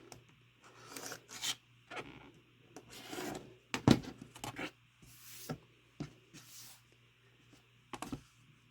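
Half-square fabric triangles for a star quilt block are trimmed with a cutter and ruler, making irregular bursts of rasping, scraping strokes separated by quiet gaps over a faint low hum, with one sharper knock midway.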